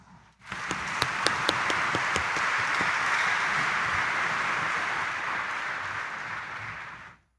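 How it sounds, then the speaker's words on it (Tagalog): A Sunday Mass congregation at Quiapo Church claps louder for Jesus Nazareno. A few sharp claps ring out before the sound swells into sustained, even applause that holds for several seconds and then stops abruptly. "pumalakpak ng mas malakas"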